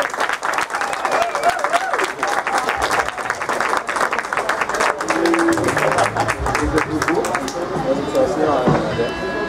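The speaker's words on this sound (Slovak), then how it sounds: "Potleskom samozrejme." Applause from a crowd welcoming the referees at a sports match between the Warriors and the Kosice Steelers, steady dense clapping throughout with voices mixed in.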